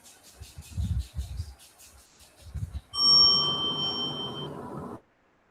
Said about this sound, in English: Ashri will show you the demo of the bell sound.